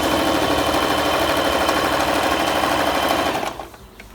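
A Bernette Sew Go 5 sewing machine stitching a zigzag seam, a close, steady rapid whirring rattle that stops abruptly near the end, leaving near silence.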